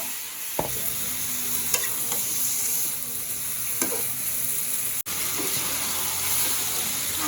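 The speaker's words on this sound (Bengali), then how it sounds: "পেঁয়াজ ভাজা শেষ এবার দিল মাংস মশলা দিয়ে" Meat with spices fries among fried onions in a pan, giving a continuous close sizzle broken by scraping stirs and a few clinks of the spoon, with no talk.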